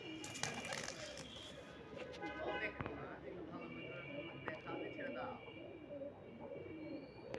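High-flyer tumbler pigeons, a mated pair, coo softly and repeatedly in a loft. Someone talks over the birds throughout.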